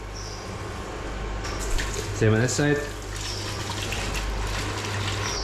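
Water is poured into a plastic bucket to fill the space around a metal bucket standing inside it, giving a steady splashing gush with brief bubbling bursts near the middle, while a person talks briefly over it.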